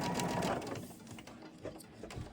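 A sewing machine stitches a table runner in a fabric studio, running steadily and fairly close, then easing to a lighter hum with a few small clicks.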